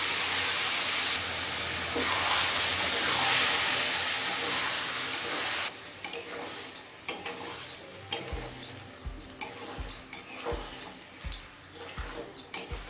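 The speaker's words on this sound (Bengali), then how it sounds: "রাজমাটা দিয়ে সব কিছুর সাথে নেড়েচেড়ে মিশিয়ে নিয়েছি" Boiled kidney beans are added to chicken cooking in a pan: a loud steamy hiss first, then quieter sizzling with a run of sharp spoon scrapes and knocks as everything is stirred together.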